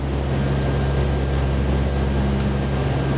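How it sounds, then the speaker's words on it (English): A NASA research aircraft taking off, heard from inside as a loud, steady engine drone with a deep hum throughout, no voices. "That was takeoff."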